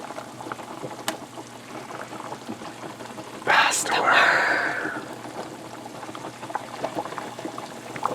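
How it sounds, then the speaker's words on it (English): Grease and liquid fat poured off cooked ground meat for lasagna, a few seconds of pouring and sizzling liquid rising mid-clip over quiet kitchen background. "we're going to drain all the fat off of there so it's as low fat as possible."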